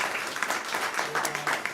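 Church congregation clapping hands during a sermon, a dense, even burst of applause from many people, fairly close and steady, with faint voices mixed in beneath it.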